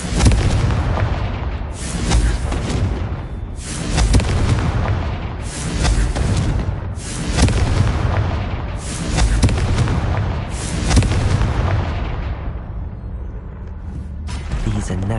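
Confringo blasting spells in the Hogwarts Legacy video game set off a rapid series of loud, heavy explosions, about one every one to two seconds, each a deep booming burst with rumbling tails, continuing throughout.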